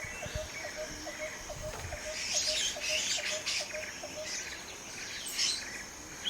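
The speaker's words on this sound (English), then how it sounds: "Sounds like a bird's being strangled this week." Small birds call outside, a rapid repeated chirping series followed by brighter scattered twitters, fairly faint and distant over low background hiss.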